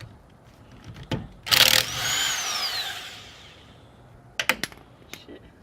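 Air impact gun on the wheel lug nuts of a Toyota Celica, firing in short bursts: two sharp hammering rattles near the start, a longer whirring burst in the middle, then a few more brief bursts at the end.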